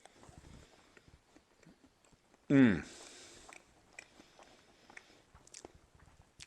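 A bite into Hawaiian-style jerky with a firm crust and soft interior, heard as one loud crunchy burst followed by a few seconds of quieter chewing, close to the mic.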